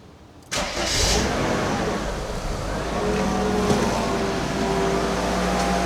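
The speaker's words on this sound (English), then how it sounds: "Time has come to start the dadgum car." A Mercedes-Benz engine cranks and catches abruptly, then settles into a steady, loud idle that hums on close by with no talk over it.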